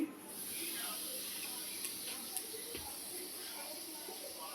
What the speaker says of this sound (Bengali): এই যে মুসুরি ডাল হচ্ছে সেটাকে ফোড়ন দিচ্ছি